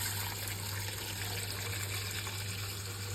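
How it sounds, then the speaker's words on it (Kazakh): Ice-cold water poured into a bowl to thaw frozen meat, a steady trickling splash over a constant low hum, close and unbroken. "су құямыз, мұздай су"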